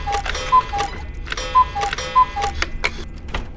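Several clocks tick in the horror video game MADiSON, giving a steady, close tick-tock with a few brighter, louder ticks standing out, with no talk.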